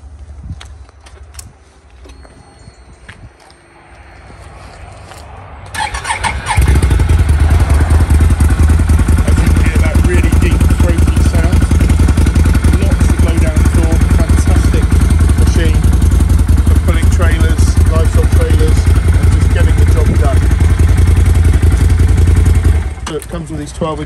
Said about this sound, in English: if you just want to have a quick listen to the engine